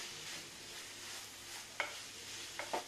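A spoon stirs a thick black grape and fresh coconut burfi mixture in a pan, giving a soft steady scraping and faint sizzle with a few louder clacks near the end, quiet and close with no talk.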